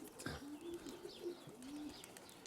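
Pigeons coo faintly in low, drawn-out murmurs repeating several times, distant and quiet beneath a soft noisy background.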